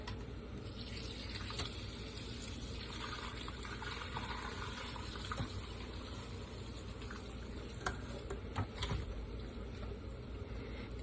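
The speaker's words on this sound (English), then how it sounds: "Just going to slowly pour it in." Steady stream of chicken bone broth pouring through a strainer and splashing continuously, close by, with a few brief clinks partway through.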